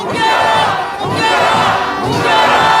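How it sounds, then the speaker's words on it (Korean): Protest crowd gathered outside a police headquarters shouting together in unison, a loud massed roar of many voices rising in rhythmic waves, close and continuous. "함성 시작."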